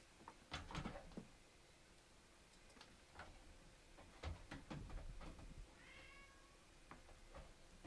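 A cat meows several times at close range, with scattered ticking and clicking noises around it.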